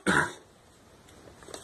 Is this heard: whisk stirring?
no